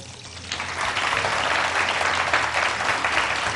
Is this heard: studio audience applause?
yes